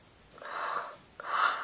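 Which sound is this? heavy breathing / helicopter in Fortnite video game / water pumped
heavy breathing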